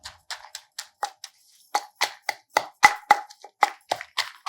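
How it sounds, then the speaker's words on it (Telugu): Fried chillies being crushed finely for a Telugu cucumber chutney, a string of sharp pounding knocks in an uneven rhythm, close and clear with no talk. "ముందు కొంచెం మిరపకాయలు అవి మెత్తగా నలిపేద్దాము"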